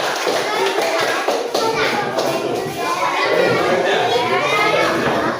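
Third-grade schoolchildren in a classroom clap continuously and noisily, their scattered claps blending with lively chatter and shouting for the whole stretch.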